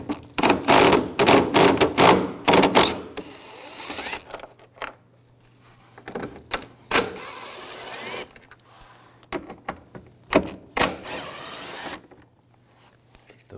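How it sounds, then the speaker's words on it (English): Screws being backed out with a T30 socket on a 2011-2018 Volkswagen Jetta during headlight removal: a series of quick, close ratcheting and clicking bursts separated by short pauses. "We're going to remove these screws,"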